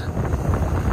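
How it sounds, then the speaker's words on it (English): Strong wind buffets the microphone out on the ice during an ice fishing trip for burbot, a steady low roaring rumble that fills the whole second with no break. "She is windy!"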